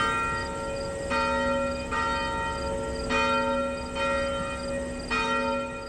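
Church bells toll in a town gathering to remember a young girl, several loud strikes ringing out at roughly one-second intervals with long sustained overtones hanging between them.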